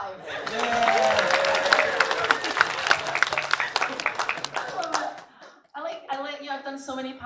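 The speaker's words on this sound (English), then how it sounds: "Cheer for being alive." A Comic-Con panel audience breaks into loud applause and cheering, a dense wash of clapping that fades after about five seconds, followed by a voice speaking.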